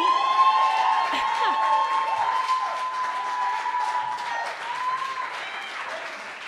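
Steady applause from an audience, a dense wash of clapping that continues throughout with some scattered cheering mixed in.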